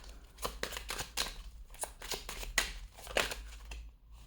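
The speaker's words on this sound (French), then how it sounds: "on va reprendre une carte" Tarot cards rustle and snap as one is drawn from the deck in a series of quick, crisp paper flicks and slides, close and fairly quiet, with a low hum underneath.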